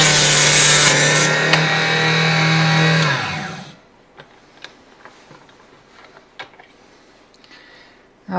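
A saw trims a .223 cartridge case: steady loud buzzing rasp for about three seconds, then it stops, leaving faint clicks and handling noises.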